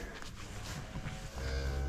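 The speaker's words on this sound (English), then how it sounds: "Big cow with a little calf." A big cow with her newborn calf on a farm during calving gives a low, drawn-out moo against rough outdoor background noise, fairly close.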